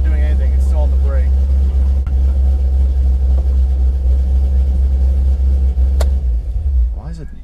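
A car engine idles at a high, steady rumble after a transmission repair, the low drone continuous beneath a nearby voice talking throughout.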